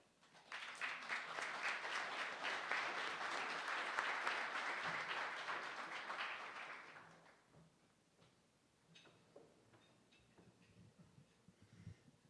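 Audience applause welcoming a speaker at a Friday Forum lecture, a dense sustained wash of clapping for about seven seconds that then thins out into scattered claps and room rustle.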